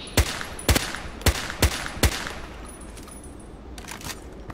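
An MP5K fires during an accuracy check: five sharp, loud reports about half a second apart, each with a short echoing tail, followed by quieter fading reverberation.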